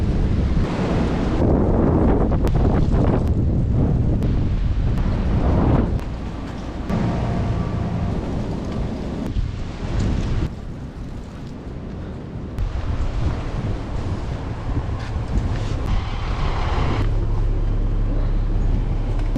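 Strong wind gusting hard against the microphone near crashing waves after a storm that toppled a tree and a power pole, a loud continuous roar that swells and dips in bursts, with no voices.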